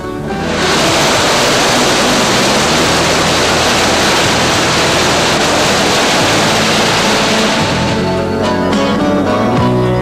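Loud, constant rushing water from a waterfall roars without pause, a dense broadband wash that fades in at the start and thins slightly near the end.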